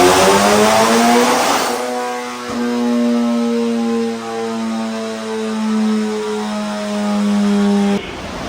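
A race-built Honda K20 engine on a dyno screams through a long, steady high-rpm pull with rising harmonics, then cuts off abruptly near the end, loud and close with no talk.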